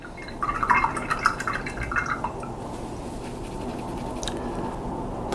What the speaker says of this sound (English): Clean the brush.